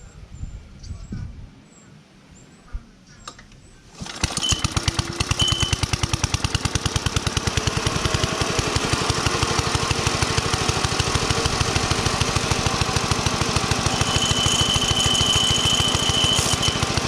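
A vintage Ransomes Marquis lawn mower engine starts after some handling noise and settles into a steady, fast, loud idle with a rapid even chugging, running close by.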